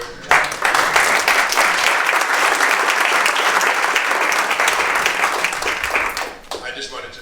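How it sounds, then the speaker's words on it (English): Audience at an IT panel discussion gives a round of applause for a panel speaker, a loud, dense burst of many hands clapping that rises sharply and then tapers off near the end. "Round of applause for Steve too."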